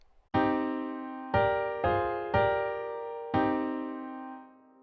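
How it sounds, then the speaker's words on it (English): Five sustained minor chords ring out one after another, each struck cleanly and left to decay, with a darker, somber tone and no voices. "Playing these minor chords, similar to how we did with the major chords"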